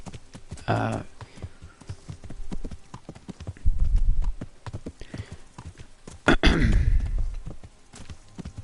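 A horse walks in the medieval video game Kingdom Come Deliverance on PS4 Pro, its hooves clip-clopping in a steady, close rhythm. A voice talks over it, and a louder burst of movement comes twice.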